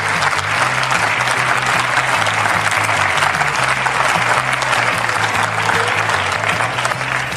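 A live podcast audience claps as guests are welcomed onto the stage. The applause is loud, dense and sustained for the whole stretch, with a faint low tone running beneath it.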